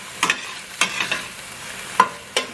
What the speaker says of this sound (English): we're sauteing our onions and peppers up